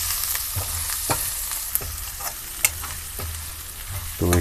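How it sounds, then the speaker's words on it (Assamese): Sugar and spices frying in a pan for mutton curry, stirred steadily: a continuous sizzle with regular scraping and clinking spoon strokes, ending in a louder burst of frying. "এতিয়া ধুনীয়াকৈ লৰাই দিব লাগিব।"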